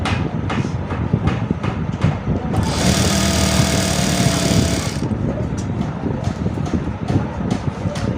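A sewing machine runs fast stitching a shirt seam, a rapid rattling chatter heard up close in short bursts with a longer steady run in the middle, with no talk over it.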